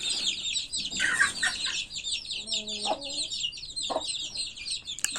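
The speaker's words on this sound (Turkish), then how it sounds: "11 tane olan civcivlerimiz de büyüyorlar" A flock of about eleven growing chicks of mixed breeds, including half-feathered-leg Brahmas, chirp and peep continuously up close, with a few louder clucks and calls breaking through the high, busy chatter.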